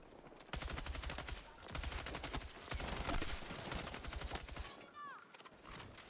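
Rapid gunfire bursts in Battlefield 6, repeated automatic weapon rattles in several close loud strings, with a voice speaking alongside.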